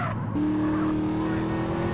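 A fast modded car in GTA San Andreas on Android revs hard with a sustained engine whine and tire squeal, loud and close, with no talk over it.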